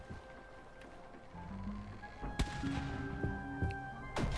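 Pirate ship cannons firing in the Seablip naval battle game, several sharp booms spaced a second or so apart over low rumbling game ambience and a tonal music drone.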